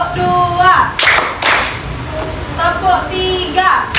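A class of schoolchildren clap their hands twice in unison, two loud sharp bursts a moment apart, framed by a voice speaking before and after.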